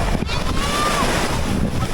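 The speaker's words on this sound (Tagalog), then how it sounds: "Ayun guys, malakas na po yung alon." Rough ocean water churns and splashes steadily against a small outrigger boat while wind buffets the microphone, with the boat's noise underneath throughout.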